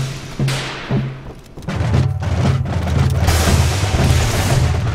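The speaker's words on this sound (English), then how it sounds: "those exploding barrels" Deep booming blasts of exploding barrels in the video game Ape Out, a couple of separate thumps followed by a sustained rolling roar of overlapping explosions, loud and close.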